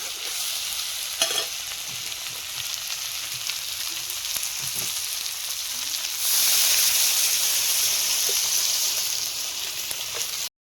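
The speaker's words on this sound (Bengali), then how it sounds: "মশলা থেকে তেল ছেড়ে দিয়েছি, জল দিয়ে দেবো।" Spiced poultry meat fries in oil with a constant crackling sizzle and light stirring noises, then the hiss swells suddenly and stays louder as water is poured into the pan; close and continuous.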